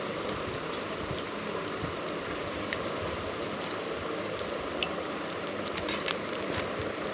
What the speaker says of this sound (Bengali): ছোটো ছোটো কুমড়ো পাতা গুলো ভালো করে বেসনে ডুবিয়ে ছেড়ে দিলাম